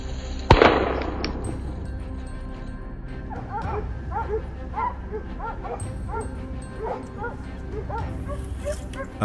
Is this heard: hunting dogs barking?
yes